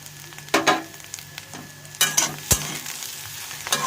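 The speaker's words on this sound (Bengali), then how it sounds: "কুচো পেঁয়াজটা দিয়ে দিচ্ছি।" Chopped onion going into okra frying in a pan, a sharp crackling sizzle punctuated by several spatula knocks and scrapes, close and clear, without speech.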